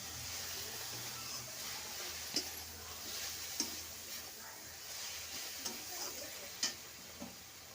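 Spices being stir-fried together in a pan for an onion stalk curry, a low steady sizzle with occasional sharp ticks and taps of a spatula scraping the pan, faint and continuous.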